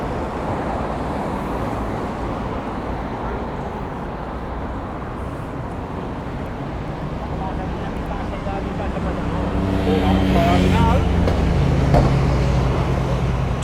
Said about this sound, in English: Tourist bus just gone past with about 3 passengers on it.